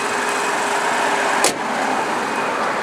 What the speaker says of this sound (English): I do apologise for the major highway noise.